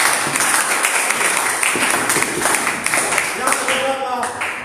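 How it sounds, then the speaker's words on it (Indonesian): A church congregation claps for God during a worship service, a loud, lively patter of many hands sustained throughout, with voices mixed in. "Kita tepuk tangan bagi Tuhan"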